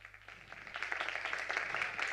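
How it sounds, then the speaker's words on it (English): Audience applause at a graphic design symposium as a speaker is welcomed on stage, a dense, even wash of many hands clapping, fairly soft and distant. "Give her a warm applause."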